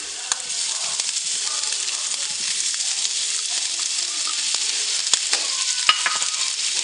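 Garlic, prosciutto and mushrooms sautéing in a pan for chicken marsala, a steady bright sizzle with occasional light stirring clicks, moderately loud and alone.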